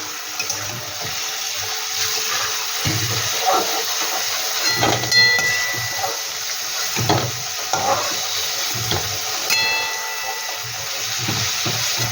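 Prawns sizzle in a pan with a constant frying hiss, broken by occasional soft stirring knocks and clinks.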